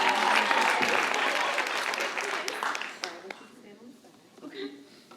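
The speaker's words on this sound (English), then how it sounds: "Y'all give Dee Linson a round of applause," An awards-ceremony audience claps loudly and densely for a minority business awards honoree, the applause thinning and fading after about three seconds into scattered claps and murmuring voices.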